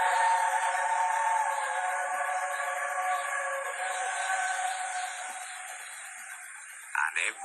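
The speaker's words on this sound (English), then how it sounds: "A ghost train." A ghost train in a Thomas and Friends train sim game runs with a steady, sustained whistle-like wail and rail drone, loud at first and slowly fading, with a brief sharper burst near the end.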